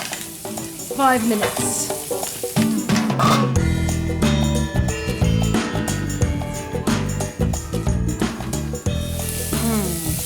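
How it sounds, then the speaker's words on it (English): Large shellfish fry and sizzle in aromatic oil in a pan with the lid clamped on, a loud steady crackle with clattering stirs and turns throughout, while a voice speaks briefly over it. "Turn them in this aromatic kind of wonderful oil, and you clamp the lid on for a bit and let them cook"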